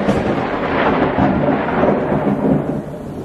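Thunder from a lightning storm under a cumulonimbus cloud rolls and rumbles continuously, loud and broad, with rain hissing beneath it.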